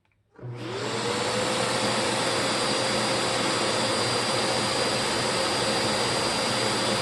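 Vacuum cleaner with a clogged HEPA filter switching on and running, a steady loud whooshing roar with a thin high whine, no talking.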